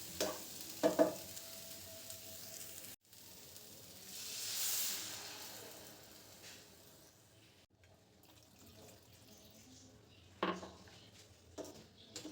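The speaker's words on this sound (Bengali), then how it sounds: "এবার এর মধ্যে আমি পরিমাণ মতন জল দেব।" Water is poured into a pan of fried spice masala for a raw banana curry, giving a swelling hiss and sizzle midway, with spoon clinks before and after. The sounds are faint to moderate, and no one speaks.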